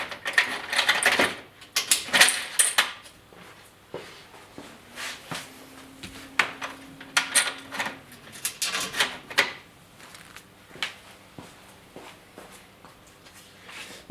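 Roller shutter apron being hooked onto its attachments, giving scattered clicks, metallic clinks and rubbing knocks in irregular bursts at close range, with quieter handling between them.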